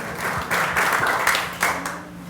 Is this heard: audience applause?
yes